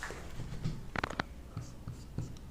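A pen scratches across paper while a physics calculation is written out, soft faint strokes in short irregular bursts, close and quiet.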